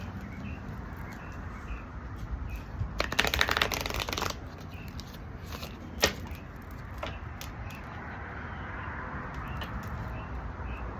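An oracle card deck is shuffled in one brisk, close riffle lasting about a second, followed by a single soft snap and faint handling noises over a quiet room.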